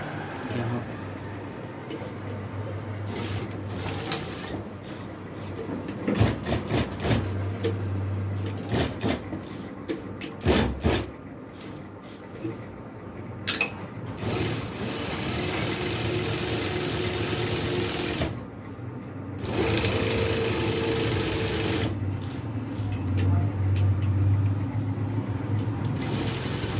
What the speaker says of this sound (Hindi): अब यहाँ पर हमने इसके सिलाई लगाना है, यहाँ पर।